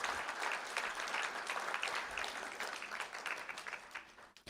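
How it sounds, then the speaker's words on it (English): An audience at a school board meeting applauds in a steady, dense round of clapping that holds throughout and thins slightly near the end, with no talk over it. "Let's give them a huge round of applause."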